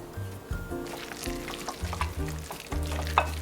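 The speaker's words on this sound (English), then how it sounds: "now mix everything together, then we're ready to go" Shrimp wonton filling stirred together, likely with chopsticks, giving a rhythmic series of wet clacks and scrapes against the bowl, close and fairly loud with no talking.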